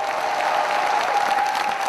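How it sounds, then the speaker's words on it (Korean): An audience applauds a Korean drum dance performance on stage, a short burst of dense, loud clapping from a large crowd. "감동은 기본, 기립박수는 필수 옵션 아니겠는가?"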